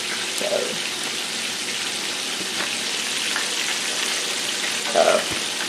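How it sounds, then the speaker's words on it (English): Steady hiss of food sizzling in a pan, with a couple of brief murmured voices breaking through near the start and end. "I can kind of judge the sizzle and get an idea"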